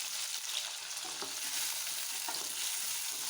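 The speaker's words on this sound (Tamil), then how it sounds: "தக்காளி பூண்டு வெங்காயம் 3 நல்லா வணங்கட்டுமுங்க" Tomatoes, garlic and onion sauté in hot oil in a pan while being cooked for karuvadu kulambu, giving a steady, close sizzle with occasional stirring scrapes throughout.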